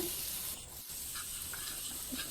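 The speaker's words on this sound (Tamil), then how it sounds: "இந்த மசால்கள் எல்லாத்தையுமே சேர்த்து எடுத்து பிரட்டி கிண்டி விடுங்க" Prawn fry masala with crisping onions being stirred in a pan, a soft continuous scraping and faint sizzle at close range with occasional light clinks, no voices.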